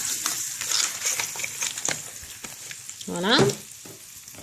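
A corn tortilla laid into a frying pan, with a light crackling sizzle and a few soft taps and scrapes before a brief voice speaks near the end.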